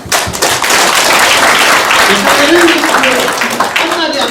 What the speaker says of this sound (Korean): 우리 큰 박수로 한번